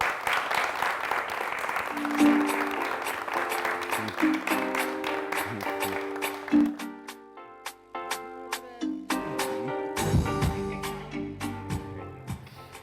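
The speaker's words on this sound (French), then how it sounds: "Nous allons applaudir la toute première qui nous rejoint." Studio audience applause on a Burkina Faso television comedy show, a steady wash of clapping that thins near the end as music comes in.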